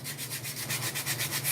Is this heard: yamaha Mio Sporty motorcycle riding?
no